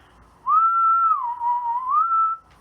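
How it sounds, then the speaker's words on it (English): A lone close whistle holds a bright note, dips to a lower pitch as the mouth rounds toward an O shape, then rises again before stopping. "That's E, and then here's going down to O."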